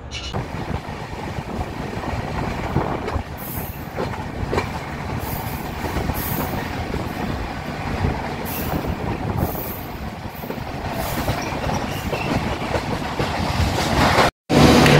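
Vistadome tourist train 15777 from NJP to Alipurduar Junction rolls along, a steady loud rumble of wheels and carriage with occasional squeals and clanks, heard from inside the coach.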